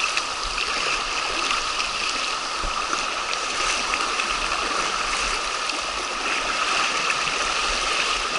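A mountain river rushes steadily nearby, a constant broad roar of churning water with no voices.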